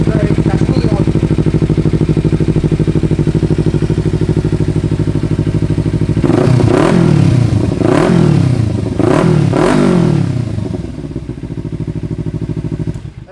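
A 2015 Kawasaki Ninja 300 engine runs close by at a steady idle, then blips through four sharp revs in quick succession before easing back down. Voices can be heard over the engine.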